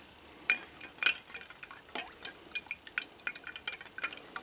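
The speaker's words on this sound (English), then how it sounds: "I'd put something over the top though because it will splash in a jar like this" Etching acid for a circuit board sloshes and splashes inside a glass jar, giving a string of soft, quiet liquid splashes with faint glassy clinks, heard alone without voices.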